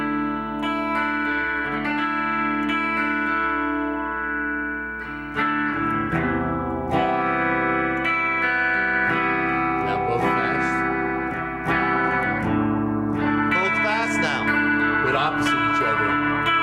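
Electric guitar played through a Lovetone Doppelganger twin oscillator phaser, one LFO set slow and one fast, giving sustained chords a swirling, wobbling vibrato sweep, loud and continuous with strummed changes.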